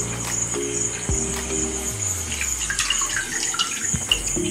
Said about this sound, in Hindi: ऐसे दो तीन बार हम उसे अच्छी तरह धोएंगे।